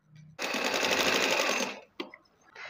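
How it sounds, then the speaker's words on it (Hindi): An electric sewing machine runs a quick burst of stitching through fabric backed with fusing paper, a loud, even whirring rattle for about a second, then stopping with a short click. "अब मैं इस पर एक एक सिलाई लगा लूँगी"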